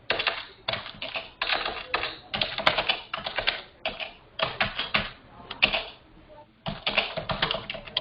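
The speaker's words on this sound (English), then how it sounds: "Somebody has to mute. Somebody is typing." Rapid keystrokes on a computer keyboard come in quick bursts separated by short pauses, picked up close by an open microphone during an online class.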